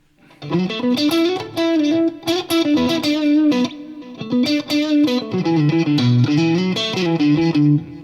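Distorted electric guitar plays a rhythmic riff of chords and notes through a delay effect and reverb, with echoing repeats trailing behind, loud and steady.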